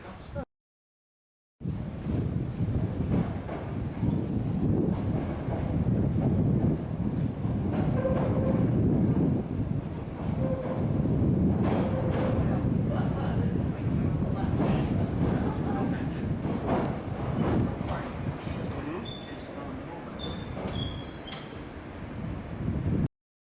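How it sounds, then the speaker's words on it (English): A 1938 ex-London tube train runs on the Isle of Wight railway, its steady rumble and rattle close by with clicks and squeals over the wheels. A sharp brief noise comes first, then a short silence before the train sound begins. "it is operated by tube trains from 1938"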